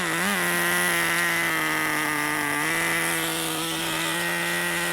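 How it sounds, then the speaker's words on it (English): A nitro RC engine running rich, a loud, steady, buzzing drone with a constant pitch that wavers slightly, heard close up and alone for several seconds. "So you saw it running, the engine was running rich."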